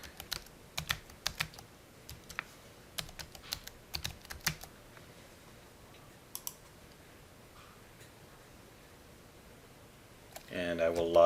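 Login password typed on a computer keyboard, irregular bursts of crisp key clicks close by, then a pause and a brief voice at the end.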